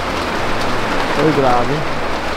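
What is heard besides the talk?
heavy rain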